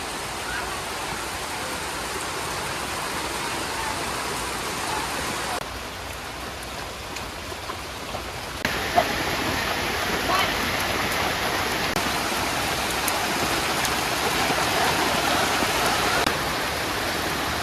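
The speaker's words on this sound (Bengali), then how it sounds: "ওই রে, বৃষ্টি আস্তে আস্তে আরো বেশি বাড়তে আছে।" Heavy rain pours steadily in a village, a dense, continuous close-up patter and hiss that thickens partway through and stays loud throughout.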